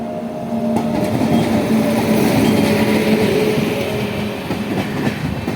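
A Vande Bharat train runs along the Barabanki–Ayodhya rail line near Rudauli station, its steady, loud rumble and wheel clatter filling the whole stretch with no voices over it.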